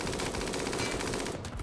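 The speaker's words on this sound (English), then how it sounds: "I'm being shot in the back by a minigun" A minigun fires in a video game, a dense, loud continuous burst of rapid shots lasting the whole moment before cutting off abruptly.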